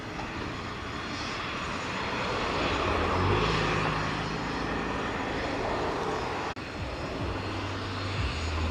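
Airliner engines roar steadily at Sangster International Airport in Montego Bay as a jet comes in to land, loud and sustained with a low rumble throughout.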